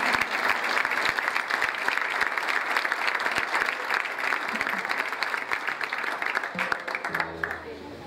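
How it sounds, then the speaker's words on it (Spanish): A live audience at a music event in Las Varillas applauds for a man named Gustavo, with brisk, dense clapping holding steady for several seconds before tapering off at the end. "Un aplauso para el caballero Gustavo."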